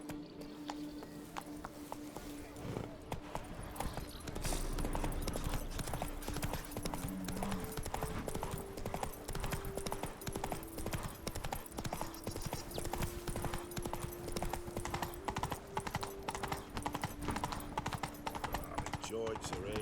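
Galloping hooves of a horse ridden in The Witcher 3 video game pound in a steady fast clip-clop throughout, loud and close, over a sustained musical drone with a brief spoken line.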